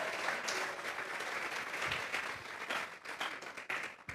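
A church congregation gives sustained applause during a sermon, a full, continuous wash of clapping from many hands with a few sharper bursts, filling the room without speech.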